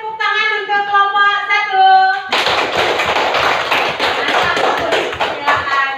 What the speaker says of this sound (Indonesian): Silakan beri tepuk tangan untuk kelompok